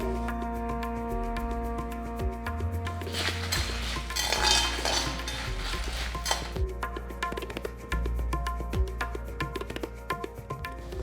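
Lentils, coriander seeds and dried red chilies dry roast in a pan over a medium-low flame, with spoon scrapes and metallic clinks stirring them through the pan, close and fairly quiet, no voice.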